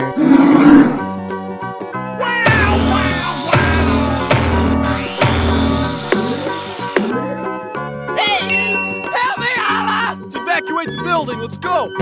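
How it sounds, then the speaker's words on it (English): A bear roars in a guess-the-right-door escape room game, a loud growling roar set against bright jingling music and chimes. "bear."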